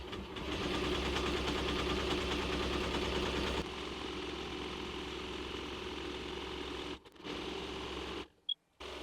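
An embroidery machine stitches a 3D puff design, giving a steady close mechanical hum and rapid needle chatter for several seconds before dropping to a lower drone, with brief gaps near the end as it pauses.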